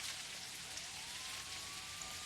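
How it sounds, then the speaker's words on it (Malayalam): Steady rain from an off-road bus driving video game hisses evenly throughout, with a faint rising engine-like tone underneath. "അവിടെ അടുത്ത മഴ,"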